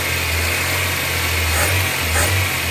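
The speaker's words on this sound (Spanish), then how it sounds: "Motor inestable, motor tiembla." A Toyota Starlet EP90 engine idling roughly and unstable, shaking, heard up close as a loud continuous mechanical drone with a low uneven hum and slight surging, no talk.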